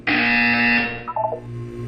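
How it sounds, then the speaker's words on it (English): A loud electronic buzzer from the video game Portal 2 sounds once in a sustained harsh tone lasting under a second, then cuts to a brief warbling chime and low hum. "You will hear a buzzer."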